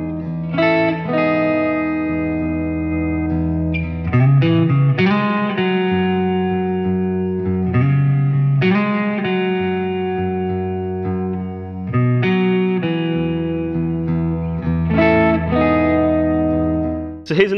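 A Les Paul electric guitar on the neck pickup through a clean amp with heavy reverb plays a melodic single-note riff with ringing chords, loud and up close, the phrases repeating in a steady cycle.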